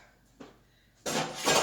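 Dishes and cutlery clink and clatter near a kitchen sink during cleanup, one short knock first and then a louder burst of rattling pots and silverware, with no voices.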